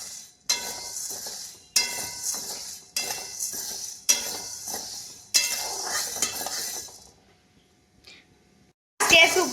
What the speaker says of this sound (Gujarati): ગેસ ઉપર શેકાવા દઈશું સાબુદાણા, જેથી જલ્દી ચડી જાય, કાચો પણ ના રહે